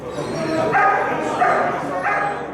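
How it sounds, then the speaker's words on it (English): A dog barking and whining inside a prison, three strained yelping barks in steady rhythm over a constant background hum, fairly close and loud. "when a dog attacked a man"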